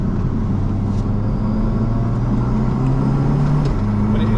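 A 750bhp four-wheel-drive Seat Leon Cupra with a big turbo accelerates under part throttle, its engine a loud, steady low drone from inside the car that rises slightly in pitch, with a brief shift-like dip near the end.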